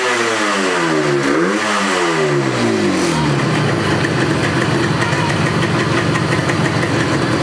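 A Yamaha RD 350 two-stroke motorcycle engine with freshly synchronised carburettors blips its throttle in rising and falling revs, then holds a loud, raspy high-rev buzz close by, with no talking.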